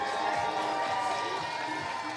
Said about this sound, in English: big round of applause for the baby sharks